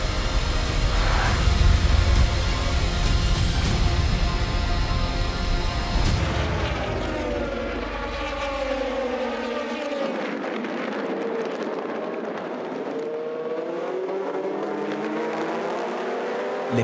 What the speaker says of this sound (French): Le bruit, la fureur des accélérations, la mêlée multicolore qui se précipite de virage en virage